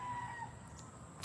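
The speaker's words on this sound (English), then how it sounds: "So yes, that's your rooster friend." A rooster crows outdoors in a yard, faint and somewhat distant, in a short burst with no talking.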